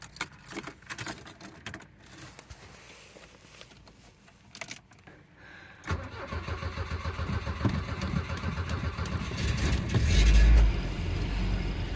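Keys jingle briefly, then a carburetted Volvo 740 engine cranks and catches, settling into a loud, steady rumble with a rev surge near the end.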